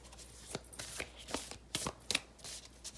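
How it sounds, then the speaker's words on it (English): Tarot cards being shuffled in a series of quick riffling bursts, close and fairly soft, with short pauses between them. "I'm going to shuffle one more time."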